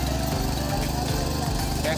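A new tractor's engine runs steadily close by in a rural Konkan village, giving a constant loud, low mechanical drone with a faint rhythmic pulse throughout.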